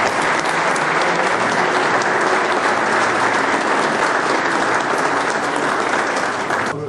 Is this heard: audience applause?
yes